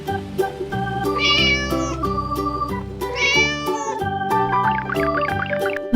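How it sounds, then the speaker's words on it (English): A cat meows twice over a bouncy musical backing, the mewing calls standing out clearly above the steady accompaniment. "Cat."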